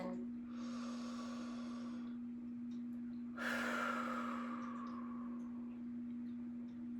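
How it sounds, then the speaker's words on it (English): Two slow, deep breaths during a breathing exercise, a long airy inhale followed later by a stronger exhale, close and quiet over a faint steady hum. "taking a deep, deep breath"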